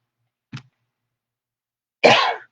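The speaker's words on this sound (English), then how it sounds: "pardon me, I got a cough." A short throat sound, then after a pause a single louder, harsh cough, close and alone in a quiet room.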